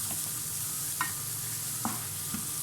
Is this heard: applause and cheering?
no